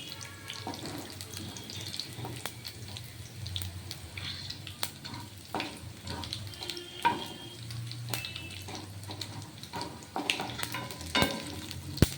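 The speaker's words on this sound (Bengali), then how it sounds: "চেপে চেপে চেপে চেপে আস্তে আস্তে শাক ভাজা করতে হয়" Radish greens are pressed down and fried in a pan, making a faint, uneven sizzle with intermittent scraping and clacking of a utensil, recorded quietly and close.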